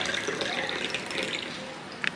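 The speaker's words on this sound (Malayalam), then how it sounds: "അപ്പൊ നമുക്ക് ഫസ്റ്റ് ഒരു ഗ്ലാസ് വെള്ളം എടുക്കാം" Water pours into a drinking glass at a home sink, a steady close trickle with a few small splashy peaks near the end and no talking.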